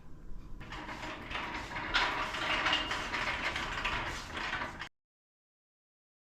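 A press is cranked tight on a custom car kick panel, giving a rapid ratcheting, clicking mechanical rattle for about four seconds before it stops abruptly into silence.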